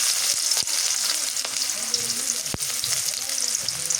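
Chopped onion frying in a pan for a spicy rohu fish curry with eggplant, beans and potato, a steady loud sizzle with a few sharp spatula clicks scattered through.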